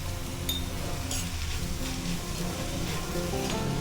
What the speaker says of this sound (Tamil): இந்த பக்கம் வந்து குடமிளகா, ஸ்ப்ரிங் ஆனியன் எல்லாமே நல்லா வதங்கிடுது